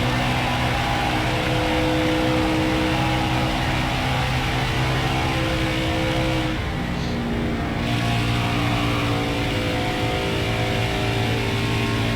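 A racing truck's engine drones continuously through a lap at Las Vegas in NASCAR Heat 4, its steady high whine shifting pitch slightly as it runs, with no talking.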